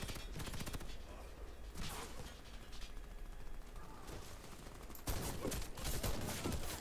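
Shotgun fire in the shooter game Warface, a dense run of rapid blasts and mechanical clatter through the whole stretch, with a sharper, louder burst near the end.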